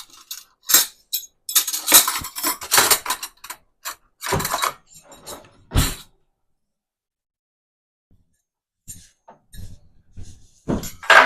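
Silverware and dishes clatter and clink in a kitchen, with bursts of metallic rattling and scraping, then a long quiet pause before more clinks at the end.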